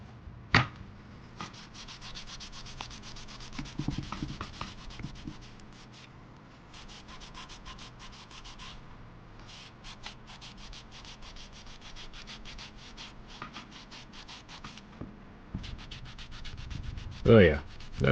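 Vigorous scrubbing on the dirty plastic eject tab of a Super Nintendo, rapid rubbing strokes in bursts with short pauses, close and fairly quiet, plus a few handling knocks.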